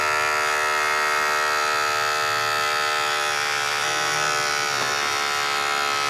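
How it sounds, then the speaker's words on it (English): An electric hair clipper, fully closed, buzzing continuously and close up while cutting the skin line of a fade in a barbershop; the steady motor hum shifts only slightly as it moves over the head, with no talking. "I take my clipper all the way closed and put the initial skin line in"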